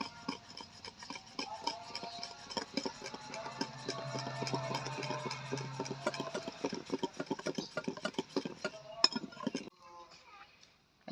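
Flour is stirred bit by bit into orange cake batter in a bowl, giving close, rhythmic scraping and clinking of a utensil against the dish that fades out near the end.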